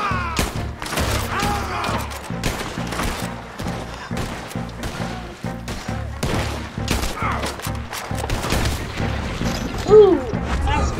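Dense in-game gunfire in Red Dead Redemption 2, rapid overlapping shots and booms in a sustained firefight, loud and continuous with a voice calling out between blasts.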